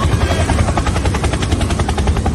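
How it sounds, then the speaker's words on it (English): A helicopter flies overhead, its rotor producing a loud, fast, even chopping pulse that continues throughout, close and alone. "Helicopter, helicopter!"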